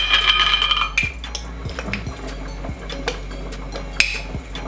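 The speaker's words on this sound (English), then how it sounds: "We get our pot there, and I'm probably just grabbing a spoon right there" A cooking pot and spoon being handled on a stove, several sharp metallic clinks and taps spaced unevenly over a few seconds, close and fairly loud against a low steady hum.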